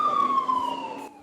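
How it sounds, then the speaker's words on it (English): An emergency vehicle siren wails at a fire scene, a single loud descending tone sliding down and cutting off after about a second. "Sirens blaring, smoke rising from the Papine area in St. Andrew around 6 Friday evening."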